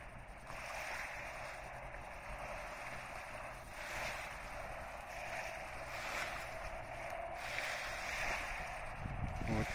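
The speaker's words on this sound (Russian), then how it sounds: "Море." Sea waves at sunset wash steadily with a broad, continuous surf rush and wind noise, no voices, swelling slightly in places.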